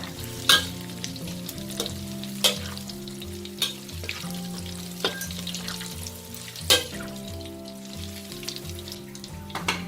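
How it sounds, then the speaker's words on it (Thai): Fermented pork ribs (naem) frying in hot oil: a continuous, busy sizzle and bubbling crackle, with periodic sharp clicks or utensil knocks and a tonal background hum throughout. "เห็นไหมว่าเราสามารถทอดแหนมของเราค่ะ น้ำมันจะไม่เสียด้วยนะคะ"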